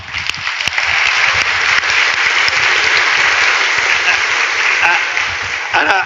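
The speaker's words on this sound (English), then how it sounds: "Let's give it a round of applause." Sustained applause from a large keynote audience fills the space, loud and steady for several seconds before tapering slightly at the end.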